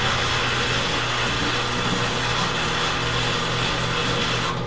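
Sandpaper working across turned wood on a spinning lathe, a dense continuous abrasive hiss over a low steady motor drone, loud and close with no voices.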